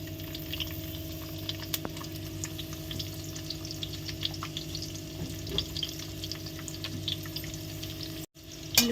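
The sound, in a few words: onions and cumin frying for tomato curry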